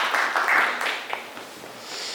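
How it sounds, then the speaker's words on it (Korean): A seminary chapel audience at a lecture event claps after a speaker finishes: a soft, steady patter of applause that swells and fades, fairly distant and thin, with no voices. "뜨거운 박수 부탁드리겠습니다"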